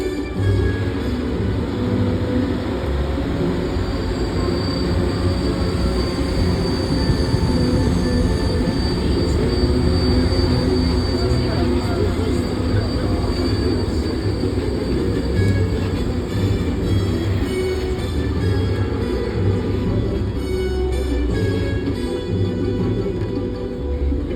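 A studio tour tram rolls along its rails in a continuous loud rumble, with steady wheel noise and high squealing from the track lasting the whole stretch and no talk over it.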